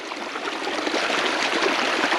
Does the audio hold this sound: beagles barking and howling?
no